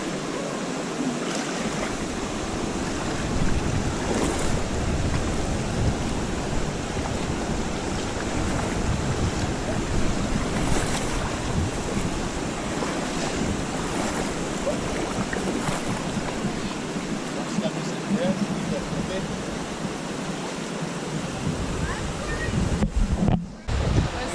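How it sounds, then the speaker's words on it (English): River water rushing through a gorge in the Dominican Republic, a loud continuous roar of flowing water mixed with wind buffeting the microphone, lasting throughout with a brief knock near the end. "And Linda is now being intrepid and crossing the river."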